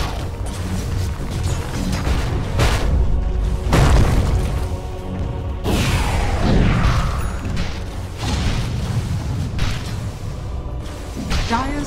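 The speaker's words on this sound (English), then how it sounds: "Radiant's bottom tower is under attack." In Dota 2 gameplay, Radiant's bottom tower takes attacks amid repeated booming impacts, crashes and whooshing spell effects, loud and dense over a constant battle din.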